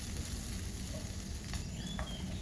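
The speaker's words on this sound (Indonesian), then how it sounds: "Lanjut tumis kembali sebentar." Spices and ground roasted coconut sautéing in a pan for Cirebon empal gentong, a steady loud sizzle with soft stirring scrapes running throughout, no voices.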